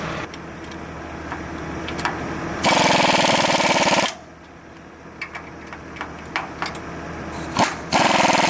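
A wrench tightening loose bolts on a self-loading bale wagon: loud bursts of rapid mechanical rattling over a steady outdoor engine drone, with a pause of clicks and clanks between them.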